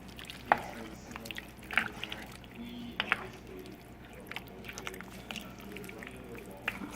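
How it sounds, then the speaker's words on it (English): Gumbo ingredients (okra, meat and sausage) being stirred together in a pot, giving soft, faint wet squishes and scattered liquid drips at an irregular pace. "So let's just stir everything in."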